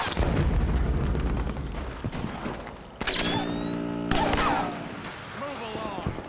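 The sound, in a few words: suppressing gunfire in video game Metal Gear Solid 4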